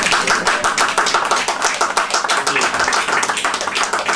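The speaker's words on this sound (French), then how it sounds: "Donc les applaudir et les remercier." An audience claps loudly and steadily throughout, a dense, close wash of hand claps with no voices over it, following thanks to a production team.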